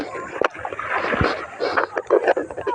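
Water laps and splashes near a small boat in deep water, with wind noise and people talking over it.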